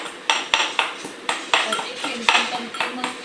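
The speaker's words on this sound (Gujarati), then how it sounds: "આપણે મસ્તીનો લસણ ને મરચા ને ખાંડવાનું કામકાજ ચાલુ થઈ ગયું છે" Garlic and chillies are pounded for masala bhakri with a pestle in a metal mortar. The strikes come close and loud in a steady rhythm, about three a second, each one a sharp ringing knock.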